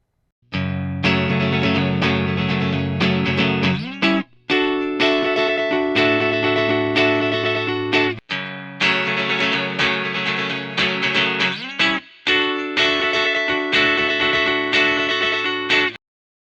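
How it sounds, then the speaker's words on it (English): Electric guitar heavily distorted through a Boss DS-2 pedal plays sustained chords in four phrases, each cut off briefly before the next, with a thick, saturated tone. "I used the Boss DS-2 for the distortion part for the solo"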